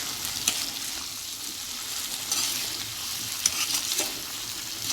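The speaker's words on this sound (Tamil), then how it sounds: "இப்போ இதை வந்து நல்லா பொட்டேட்டோவோடு சேர்த்து மிக்ஸ் பண்ணிடுங்க." Potato fry with masala being stirred in a pan on the stove, giving a steady sizzle with soft scraping and stirring clatter throughout, with no talking.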